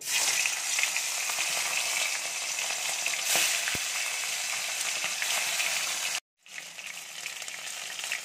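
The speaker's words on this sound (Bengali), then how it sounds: "তেলগুলো গরম হয়ে গেছে, মাছগুলো আমি এখন ভেজে নেব।" Salt-and-turmeric-rubbed fish frying in hot oil in a wok, a loud, dense crackling sizzle that holds steady, cuts out briefly, then resumes slightly quieter, with a few sharp clicks and no voices.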